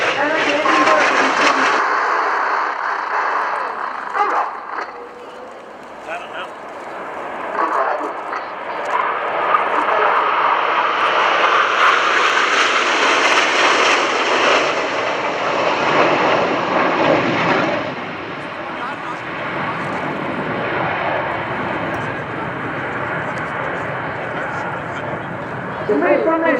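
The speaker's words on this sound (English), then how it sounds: "The main formation is 9 aircraft, Italian, MB339." A formation of nine Italian MB-339 jet trainers flies an airshow display, their engines roaring loud and steady across the whole stretch, swelling and fading slightly as they pass, with a commentator speaking over the noise.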